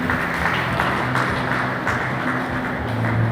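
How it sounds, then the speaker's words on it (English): Sustained applause from a business summit audience, a loud, even crackle of many clapping hands that holds steady throughout without speech. "Please a round of applause once again for"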